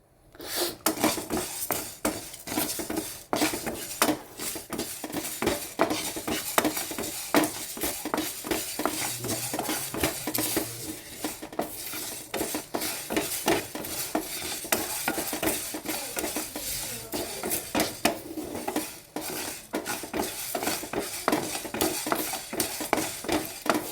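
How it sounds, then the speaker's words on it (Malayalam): Fenugreek and mustard seeds roast in a pan for pickle, with dense rapid clicks, utensil scrapes and a soft sizzle running throughout at close range, and no talk. "നമുക്ക് നല്ലതുപോലെ ഒന്ന് വറുത്തെടുക്കാം പൊട്ടുന്ന ഒരു പരുവം ഉണ്ടല്ലോ ആ പരുവം വരെ ആക്കിയെടുക്കാം"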